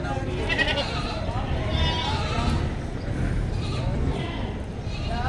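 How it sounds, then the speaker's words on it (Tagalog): Sheep and young lambs bleat at Padre Garcia livestock market, with repeated calls rising over dense pen and crowd noise while people talk nearby. "Yan, oy, may tupa pa. Ang ganda. Ganda, mga bisirong tupa."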